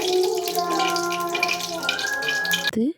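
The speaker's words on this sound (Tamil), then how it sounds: "இப்போ புளிக்குழம்பு வைக்கிறதுக்கு எண்ணெய் ஊற்றிக்கிறோம்." Oil pours into a cooking pan to start a tamarind curry (puli kulambu), a continuous close splashing stream lasting nearly three seconds before stopping abruptly.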